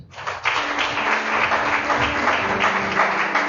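A church congregation applauds during an intense French-language prayer session, a dense, steady wash of clapping that holds at full strength throughout, with a faint low hum beneath it.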